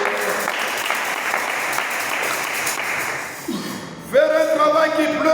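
A church congregation claps in a dense, steady burst of applause that fades, then gives way to sustained sung or instrumental tones.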